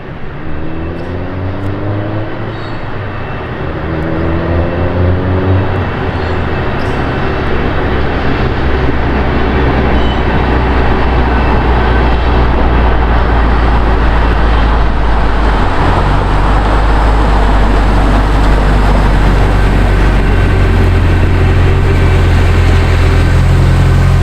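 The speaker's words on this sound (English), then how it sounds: "That little stock motor is doing work, guys. That thing sounds awesome." A small stock engine with a rotated setup drones loudly and steadily, its pitch shifting as it revs, with a continuous rumble of a train beneath it.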